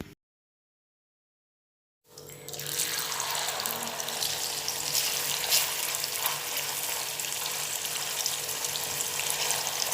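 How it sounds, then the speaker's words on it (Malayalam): Chicken fries in a pan: after about two seconds of silence, a loud, close, steady sizzle starts suddenly and holds evenly to the end, with no voices. "എന്നിട്ട് ചിക്കൻ ഫ്രൈ ചെയ്യാം."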